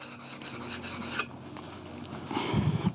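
A handplane blade is rubbed back and forth on a sharpening stone in a quick series of rasping strokes, followed by a pause and a few softer scrapes and handling sounds.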